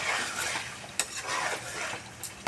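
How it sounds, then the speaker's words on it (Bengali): Spices with green chili paste stirred and fried in a pan, with a continuous close sizzle and scraping of a spoon and a few sharp metal taps. "দিয়ে ভালো করে আমি কষিয়ে নেব যতক্ষণ না কাঁচা গন্ধটা চলে যায়"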